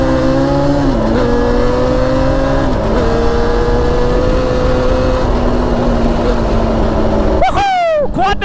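An ATV engine revs loud and close, shifting up through gears without the clutch, with dips in pitch at each shift and a sharp squealing rise at the end.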